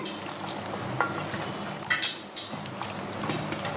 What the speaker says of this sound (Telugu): ఇప్పుడు ఈ మిశ్రమాన్ని బాగా కలుపుదాం.